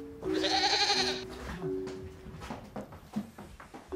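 A goat lets out one loud, wavering bleat close by for about a second, followed by quieter shuffling and small knocks.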